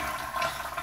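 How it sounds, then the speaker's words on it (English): A motel bathroom toilet at a MicroTel in Palm Coast, Florida rushes with a steady, hissing flush of water throughout, close and continuous. "That is a toilet flush."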